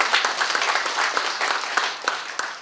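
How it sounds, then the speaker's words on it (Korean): A crowd applauds steadily at an academic seminar, a dense wash of many hands clapping together, fairly loud and sustained throughout. "박수 좀 쳐주세요"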